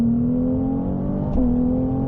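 An 820-horsepower Ferrari 298 GTB engine drones steadily with a smooth, sustained tone, pitch easing slightly and then climbing again as it accelerates on the La Ferté-Gaucher race circuit, heard close from inside.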